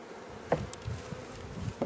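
Honeybees buzzing inside an opened hive as it comes out of winter, a soft steady insect drone with a few brief louder swells close by.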